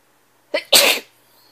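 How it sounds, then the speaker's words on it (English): A single sharp sneeze, a quick intake followed by a burst, in an otherwise quiet room. "Can you sneeze?"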